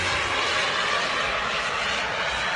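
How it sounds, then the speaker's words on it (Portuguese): A jet airplane flies past at speed, a steady loud broadband engine roar that holds constant throughout with no voices. "Você já assiste a velocidade de avião, um jato, olha e vai vendo."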